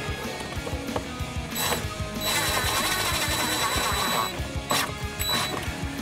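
A power driver spins a screw into a soft foam fiberglass panel with a steady buzzing whirr and uneven rattling, building to a sustained motor whine midway and then easing off.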